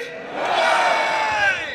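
A crowd roars a sustained cheer together, a dense wall of raised voices swelling and holding at a celebration honouring a cyclist, loud and close throughout.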